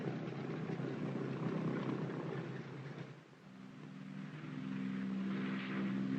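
Cargo aircraft taxi and take off from a runway, a loud, steady propeller and engine roar that dips briefly midway, then swells again with a droning tone.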